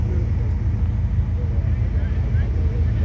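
A Honda Civic with an H22 engine cruises along, its exhaust giving a steady low drone under road and wind noise, fairly loud and continuous.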